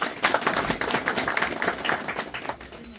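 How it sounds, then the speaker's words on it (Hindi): Dense, steady applause from a crowd, many hands clapping continuously throughout at a lively, even level. "तो एक बार हम सभी इनके सम्मान में जोरदार ताली बजा के स्वागत करेंगे"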